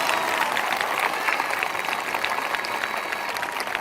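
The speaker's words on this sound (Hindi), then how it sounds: "जो मुस्कुराकर धन्यवाद कर रहे हैं तालियों के साथ," A church congregation at a Sunday evening meeting claps steadily and densely throughout, a bright, even wash of many hands with no clear pauses.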